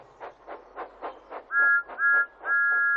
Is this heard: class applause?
no